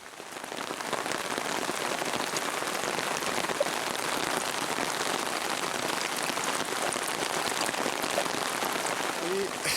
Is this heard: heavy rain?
yes